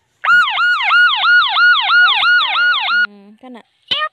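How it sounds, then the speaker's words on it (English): Police car siren in a preschool vehicle-identification learning game, a loud, close wailing tone cycling rapidly about ten times before cutting off, followed by brief game chimes. "Police car."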